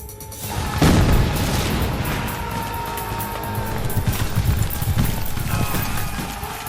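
Artillery barrage from a battle at Gettysburg: a heavy boom opens the sequence, followed by a continuous loud rumble of distant blasts and crashing debris that swells again toward the end, with no voices.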